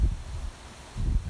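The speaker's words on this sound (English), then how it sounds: "It's really windy out here, guys." Gusty wind buffets the microphone outdoors, low rumbling bursts at the start and again near the end, with a quieter lull between.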